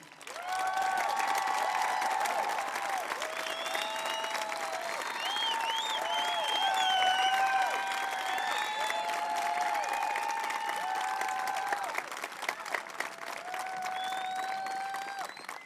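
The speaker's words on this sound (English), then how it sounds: "Let's have another round of applause." A high school graduation audience gives a long, steady round of applause, dense clapping mixed with scattered cheers and whistles that continues evenly for over fifteen seconds.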